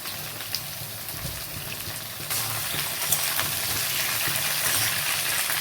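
Potatoes and pointed gourd fry in hot oil, a continuous crackling sizzle that swells louder partway through as stirring goes on.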